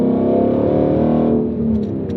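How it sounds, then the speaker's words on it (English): A car fitted with a Roush cat-back exhaust revs up to around 3,000 RPM, a loud, close, rising growl that holds briefly and then eases off. "the car really opens up, and I think it sounds amazing"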